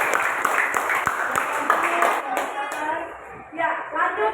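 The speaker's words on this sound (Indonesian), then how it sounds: "Oke, tepuk tangan." A classroom of students claps briefly, with a few quick sharp claps that quickly fade while voices and movement carry on in the room.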